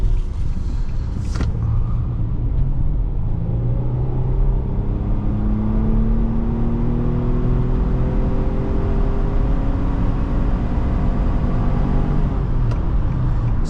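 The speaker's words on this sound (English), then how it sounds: "So the older CVT in the Murano here, it doesn't necessarily like to spin out quickly" A 2010 Nissan Murano SL with an older CVT accelerating on a hot day, heard from inside the cabin as a steady loud engine drone whose pitch climbs slowly and smoothly, with road rumble underneath and no speech.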